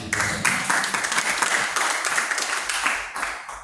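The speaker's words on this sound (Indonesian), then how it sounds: "Berikan tepuk tangan" A church congregation applauds together during a sermon on intercessory prayer, a dense, steady wash of clapping that carries on for several seconds at full strength.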